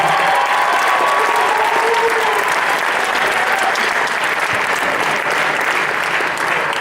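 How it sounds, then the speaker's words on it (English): An audience at a college a cappella show bursts into loud, continuous applause and cheering, a dense roar of clapping that holds steady from start to finish. "Can we get a round of applause for Hope,"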